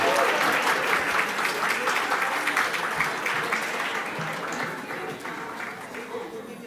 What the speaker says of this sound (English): Let's give them a round of applause as they make their way up.